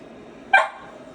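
A single short bark from Lyla, a dog playing with a Daddy Shark toy, sharp and fairly close, rising out of a quiet room and fading quickly.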